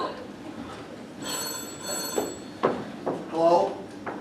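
An old-style telephone bell rings in bursts during a summer theater stage play, jangling moderately loud above room noise while actors speak over it.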